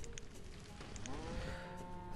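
Cows low in the Banished video game, with a single drawn-out moo rising midway through the clip over soft ambient game sounds and faint clicks.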